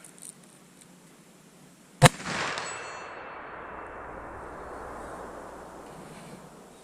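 A single loud magnum gunshot at an outdoor shooting range, a sharp close crack followed by a long fading echoing tail, otherwise quiet with no voices.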